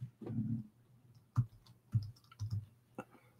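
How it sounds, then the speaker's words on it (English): A computer mouse clicks sharply and irregularly several times at close range, with some faint soft background noise between clicks. "Sorry, I'm clicking around here,"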